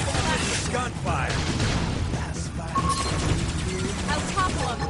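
Rapid gunfire during a Xenoblade Chronicles X battle, dense crackling bursts in a steady barrage under busy combat noise and overlapping battle voices.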